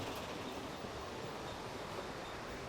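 A model railway class 47 locomotive climbs a helix on a layout, heard as a steady, faint rumble and rail hiss that holds even throughout, with no voices.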